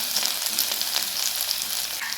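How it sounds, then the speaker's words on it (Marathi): Chopped garlic sizzles in hot oil as a tempering for a mustard-greens dish, a steady, close crackling fry running on its own with no voices. "तेलामध्ये आपण सर्वात आधी लसूण टाकून घेऊया"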